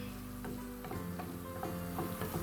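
Beef, Kerala-style varattiyathu, cooks uncovered in a pan until dry, giving a steady close sizzle with occasional soft stirring knocks at a slow irregular pace, no voices.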